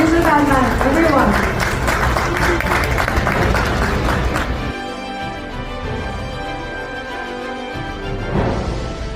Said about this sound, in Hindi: अक्षय कुमार के लिए सब लोग बहुत तालियां बजाएं